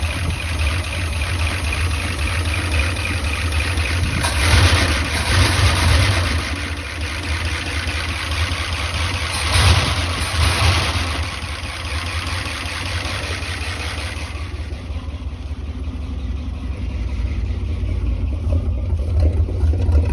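A 1976 Ford F-250 farm truck engine runs steadily at a near, constant idle, with a low rumble throughout and a couple of brief louder surges.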